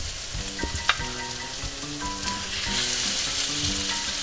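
Shrimp sizzle in a hot pan with a strong, continuous hiss that grows fuller toward the end, with a background tune playing and a few light clinks.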